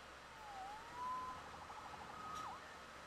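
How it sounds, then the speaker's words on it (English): A police siren in the video game Spider-Man PS4 wails faintly in the distance, its rising and falling tone sweeping a few times over a soft ambient bed. "Saved by the siren."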